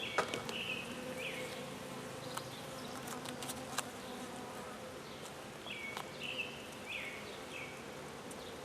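Honey bees buzz steadily up close during a hive inspection, a constant droning hum with a few higher whines drifting past and faint clicking handling noises.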